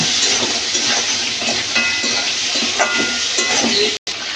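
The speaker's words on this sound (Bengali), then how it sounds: "এই ক্যাকড়াগুলো আমি একটু লাল লাল করে ভাজি করে নেব।" Crabs seasoned with salt and turmeric fry in hot oil, giving a steady, close sizzle with light stirring scrapes throughout, broken by a brief dropout near the end.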